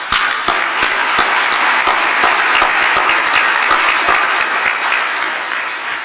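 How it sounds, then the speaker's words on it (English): Audience applause at a Missing Children's Day ceremony after a color guard and national anthem, a dense, loud crowd of clapping hands sustained for several seconds and fading slightly at the end, with no voices over it. "Would you join me in a round of applause for those folks?"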